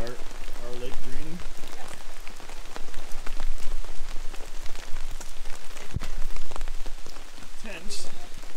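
Steady rain drums on a tent during a backcountry paddling trip in Killarney, a dense close patter with occasional louder drops, and people talk briefly beneath it.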